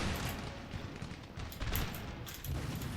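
Musket volleys and battlefield gunfire from the strategy game Napoleon: Total War, a faint, dense rattle of many distant shots overlapping in ragged bursts without voices.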